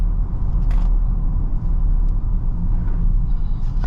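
Twin-turbo engine of a 2023 Lincoln Nautilus Black Label heard from inside while driving: a steady low rumble of engine and road noise, fairly loud and even, with a few faint clicks and no talking.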